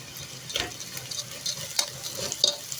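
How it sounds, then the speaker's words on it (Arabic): Seasoned chicken pieces and potatoes being stirred in a hot pan, a close sizzle with scraping and clinking of a utensil against the pan in irregular strokes, no talking. "نقلب بقى تقليبه حلوه"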